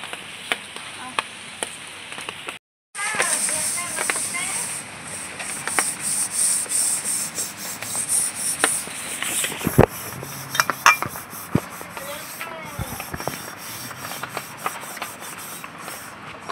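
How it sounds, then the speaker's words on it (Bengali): Scrubbing a wok with a paste of ground eggshell, a steady gritty rubbing and scraping close by with sharp metallic clicks, interrupted briefly by a short silence near the start, no talking. "এই খোসা দিয়ে যদি আমরা কড়াইটা মেজে নিই, আমাদের কষ্টটা খুব কম হবে, উঠে যাবে।"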